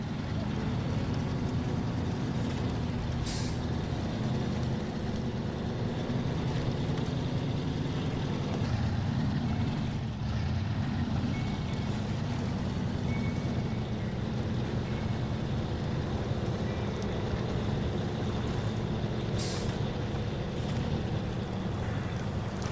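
A Fleetstar F2070A truck crawling along without all-wheel drive in SnowRunner, a steady low engine drone with no pauses, under someone talking.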